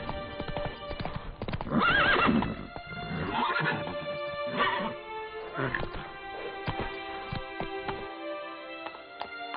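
A horse in The Witcher 3 gallops with rhythmic clip-clopping hooves and a whinny, mixed with game music and someone speaking over it.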